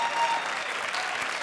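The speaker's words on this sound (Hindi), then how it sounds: "जोरदार तालियां।" Loud, dense applause from a studio audience at a Hindi comedy show, a steady wash of many hands clapping close and continuous throughout, without talk over it.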